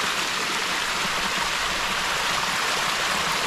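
Mountain stream water rushing steadily over rocks, a dense continuous close splashing and gurgling roar with no pauses and no voices.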